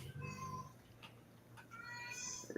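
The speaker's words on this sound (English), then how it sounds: "I hear a kitty. It sounds like a kitty." A cat meows several times in short, drawn-out calls, fairly close and clear over a quiet room background.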